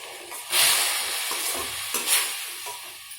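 Semiya kesari, sweet vermicelli with sugar and cardamom, stirred in a hot pan, a close scraping and sizzling with a few stronger strokes of the spoon over a steady fry.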